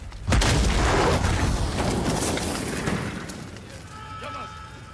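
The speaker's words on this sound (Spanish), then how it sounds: "Me encanta el disparo por disparo de la M4 también." A single-shot M4 rifle fires in Call of Duty Modern Warfare, one loud, close boom with a long rumbling tail that slowly fades, followed by faint game sounds.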